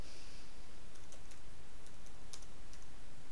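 Typing on a computer keyboard while searching for browser add-ons, a scattered series of light, crisp key clicks at an uneven pace over steady background hiss, no speech.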